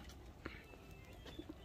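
Soft, low pigeon cooing repeats a few times at a short distance, with a faint higher bird chirp in the quiet background.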